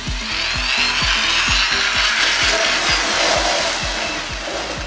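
A Tekhmann belt sander runs at its lowest speed with a wood workpiece against the belt, giving a loud, close motor drone with a regular, rapid thumping pulse throughout.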